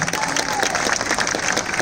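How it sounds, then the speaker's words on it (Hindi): An audience at a Hindi comic poetry gathering (hasya kavi sammelan) breaks into a short, loud burst of clapping and a little cheering, close and dense. "एक बार जोरदार तालियां उनके लिए बजाइए।"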